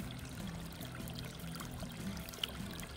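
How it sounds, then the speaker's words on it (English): New water pouring steadily into a catfish and tilapia pond, a soft continuous rushing trickle heard quietly and alone. "So we are putting in new water"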